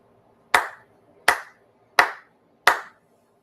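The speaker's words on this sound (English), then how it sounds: "一度拝礼 4 sincere claps." Four ritual hand claps at a Shinto Sunday worship service, sharp and evenly spaced about three-quarters of a second apart, each with a brief room echo, in an otherwise quiet space.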